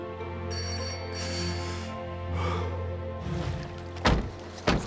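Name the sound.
emergency phone ringing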